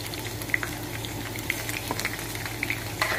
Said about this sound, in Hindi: ये देखिए मसरों का तड़का तैयार हो गया।